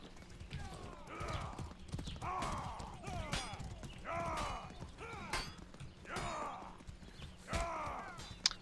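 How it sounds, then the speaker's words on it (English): A horse gallops in a video game match, its rhythmic hoofbeats repeating in bursts about once a second at close range alongside whinny-like tones and other game sounds. "His horse is catching up now."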